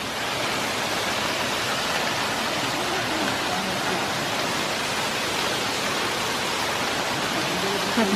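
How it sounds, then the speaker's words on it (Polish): Outdoor stream or waterfall in a wild spot by steep steps, pouring in a continuous, even hiss and roar at close range, unbroken for the whole stretch with no talking over it. "uwielbiam odgłos wody"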